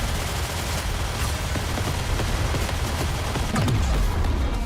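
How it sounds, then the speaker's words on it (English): Continuous rapid gunfire in the video game Goddess of Victory: Nikke, a dense rattle of shots throughout with a heavier boom near the end. "Don't stop shooting."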